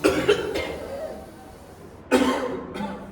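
Two loud, harsh coughs during breathing exercises, close to the microphone, one burst at the start and another about two seconds later, with quieter breathy sounds between.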